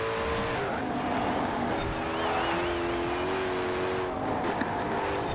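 Koenigsegg Jesko hypercar driving in Forza Horizon 4, a loud sustained engine drone with pitch sweeping up and down through gear changes and tire squeal, continuous and close.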